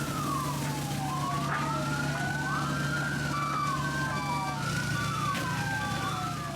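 Several fire engine sirens wail at a house fire in Indonesia where dozens of fire trucks were deployed, their overlapping rising and falling tones sweeping continuously over a steady rumble and low hum, with no talking.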